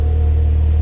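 Taxi car engine idling or running at the Nürburgring, a loud, steady low rumble held close by with no break.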